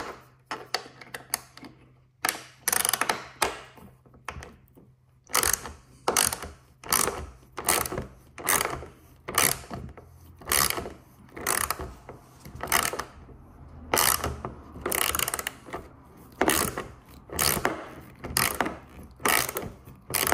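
A ratchet undoes the rear bolts on a Porsche Cayman GT4 981, giving close, loud bursts of rapid clicking in a regular back-and-forth rhythm with brief pauses between strokes.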